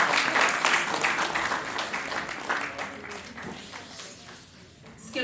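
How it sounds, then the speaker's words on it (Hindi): An audience at the Antas Utsav 2026 event breaks into loud, sustained applause, dense clapping that is strongest at the start and slowly eases off, while a voice speaks over it. "ताली बजाइए आप।"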